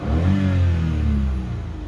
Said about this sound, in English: That's all engine, no exhaust.